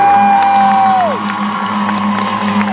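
Convention panel audience cheering and clapping, a dense crowd roar that stays loud and steady throughout, with a sustained tone sliding down early on.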